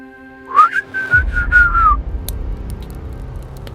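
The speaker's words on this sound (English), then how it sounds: "That's when I heard it, a low whistle from atop a rock mesa." A low, sliding whistle carries through silent high desert from atop a rock mesa, in a few wavering phrases that rise and fall, followed by faint rustling and distant ticks.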